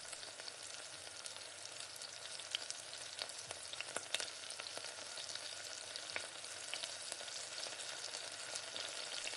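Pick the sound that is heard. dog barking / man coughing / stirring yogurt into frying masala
stirring yogurt into frying masala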